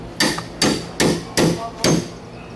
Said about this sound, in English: take the hammer, and you're hitting back on the vice grip